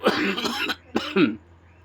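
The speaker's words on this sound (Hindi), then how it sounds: "बहुत ज़्यादा ऐसी खांसी तो मेरे होती भी नहीं है, आज अचानक हुई है।" A few harsh coughs close to the microphone, a quick burst followed by another hoarse cough, then quiet.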